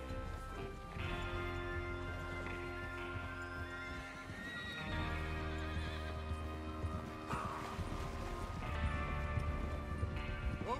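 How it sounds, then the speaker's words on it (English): Horses whinny and neigh several times in Red Dead Redemption 2, close and clear, with clip-clopping hooves and a game music bed underneath, no speech. "Get your horses ready."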